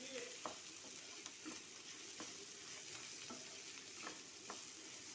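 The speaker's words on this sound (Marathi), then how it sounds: "आणि ती पण आपल्याला या कांद्याबरोबर परतायची आहेत" Kantoli and onions sautéed in a pan, a steady soft sizzle broken by several short scraping stirs at an irregular pace, close and quiet with no talk.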